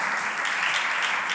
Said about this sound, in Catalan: un aplaudiment per la nostra ponent.